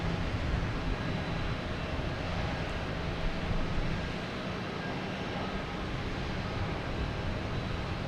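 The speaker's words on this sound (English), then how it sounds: "And we got a JetBlue taking off" JetBlue Airbus A220 airliner takes off at Boston Logan Airport with a continuous, loud, broadband jet roar that stays strong and slightly fluctuates across the span, no voices over it.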